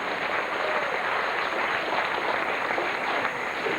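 Audience applause at a 1989 Sea-Arama dolphin show for a dolphin named Lucky, a broad, continuous rush of crowd clapping, somewhat distant and hissy, steady throughout.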